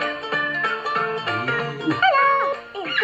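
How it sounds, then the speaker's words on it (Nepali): A dog fighting with a monkey, with continuous close yelping, whining and snarling cries that rise and fall throughout. "ए बाँदर र कुकुर लडेका हेर"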